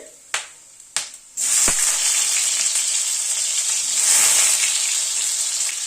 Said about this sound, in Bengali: গ্যাসের ফ্লেমটাকে একদম কমিয়ে ফোড়নটাকে একটু ক্র্যাক করিয়ে নিচ্ছি